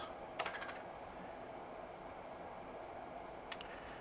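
Keys clack on a 1990 Amstrad PC3086 computer keyboard as a command is entered. A short burst of quick clicks is followed by one more keystroke a few seconds later, faint against a steady hum.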